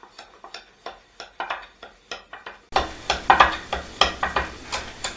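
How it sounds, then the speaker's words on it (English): A spoon or whisk stirs spices for a honey baked ham glaze in a bowl, producing a steady series of close clinking and scraping strokes in an even rhythm that grows louder and busier partway through, with no talking. "And now let's just go ahead and mix this all together."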